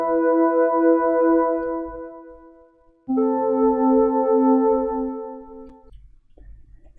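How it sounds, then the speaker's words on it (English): Solo synthesizer pad from an electronic production plays two sustained chords, each swelling and then fading. A few faint soft clicks sit underneath. No voice is heard. "So the pad solo sounds like this."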